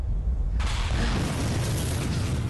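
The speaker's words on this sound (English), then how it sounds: "Ah, yes, you have an explosion, like a Nova" A Nova-like explosion power from the City of Heroes game erupts as a sudden loud broadband blast that swells into a sustained roaring rumble, alone without talk.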